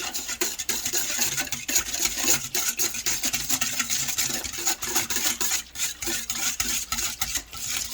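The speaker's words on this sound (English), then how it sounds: "I'm going to whisk it together" A whisk scrapes steadily around a bowl, mixing sugar into yeast for bread dough, with a continuous close, rhythmic scratching and no voices.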